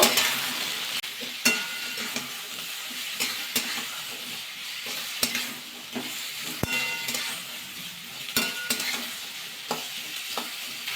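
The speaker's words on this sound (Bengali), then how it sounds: "সব সবজি একটু ভাজা করে নেব" Mixed vegetables (potatoes, carrots, beans, red amaranth stems and green chillies) sizzle in oil as a spatula stirs and scrapes the pan in sharp, irregular strokes over a constant frying hiss, nearby and without speech.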